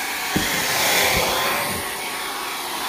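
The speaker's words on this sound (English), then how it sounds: "what I don't want to do is keep the hair dryer on a particular spot" A hair dryer blows with a steady, close whooshing roar, with a couple of faint low thumps.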